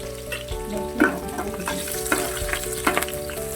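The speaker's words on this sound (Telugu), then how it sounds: "కాగిన తర్వాత పచ్చిమిరపకాయలు, ఎర్రగడ్డ వేసుకొని తాలింపు పెట్టుకోవాలండి" Green chillies and onions fry in hot oil in a kadai, a soft continuous sizzle broken by several clinks and scrapes of a spoon stirring the pan.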